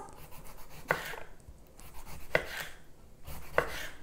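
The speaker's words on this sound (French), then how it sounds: "je vais prendre donc le cornichon et je vais en faire des petites tranches, pas trop épaisses" A knife cuts large, overgrown pickling cucumbers into thin slices on a board, three distinct crisp chops spaced evenly over a quiet background, close up with no speech.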